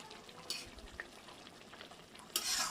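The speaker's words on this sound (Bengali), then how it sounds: "দেখো মাছগুলো দেওয়ার পরে একটু নাড়াচাড়া করে নিতে হবে।" Fish stirred into a bubbling curry, with faint simmering and frying beneath two brighter scraping stirs, one early and one at the end, all fairly quiet.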